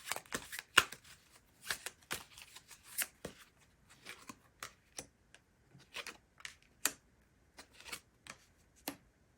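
Tarot cards are shuffled and drawn during a love reading, a run of crisp riffling flicks and soft slaps in irregular bursts, close and fairly quiet, with no voices.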